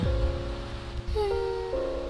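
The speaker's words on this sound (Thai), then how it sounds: "ฝนมันตกหนักมากเลยนะ" Heavy rain falls steadily in The Sims 4, a constant wash of rainfall under sustained musical tones that shift pitch partway through, with no voices.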